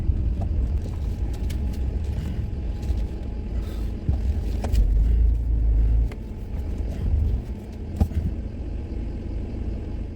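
A camper van drives onto the motorway, with a steady loud road rumble and engine drone throughout, swelling briefly as it accelerates, with no talk.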